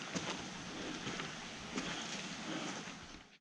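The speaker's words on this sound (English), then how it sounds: "it's started raining a little bit harder, so I guess it's time to turn back" Rain falling harder in a rainforest, a faint, steady hiss of drizzle with scattered soft drops, continuous and diffuse with no voices.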